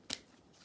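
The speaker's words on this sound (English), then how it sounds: "let me just shuffle the Romance Angel Oracle cards for singles and couples" A brief, crisp burst of Romance Angel Oracle cards being shuffled, a single quick riffle-like flutter up close, then quiet room tone.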